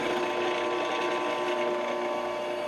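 WEN variable speed benchtop drill press running steadily: a constant, moderately quiet motor hum with a fine mechanical whir and no change in pace, with no talk.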